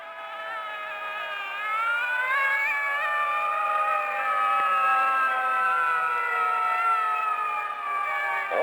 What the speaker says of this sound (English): The siren shrieks